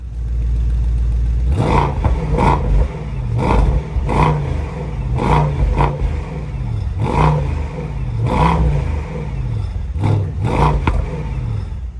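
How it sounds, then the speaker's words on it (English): Engine of a 2025 Mercedes S63 AMG E-Performance sedan idles with a low rumble in park, then revs repeatedly in sharp bursts that rise and fall back, loud and close. "we'll go ahead and give it a couple revs here"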